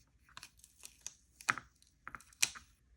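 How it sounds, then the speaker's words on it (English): Paint stencil peeled off a painted wood slice ornament, a quiet close series of short crinkly tearing and crackling bursts. "when the last coat is halfway dried, you can peel away the stencil"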